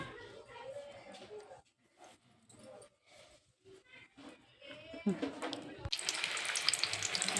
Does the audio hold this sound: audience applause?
no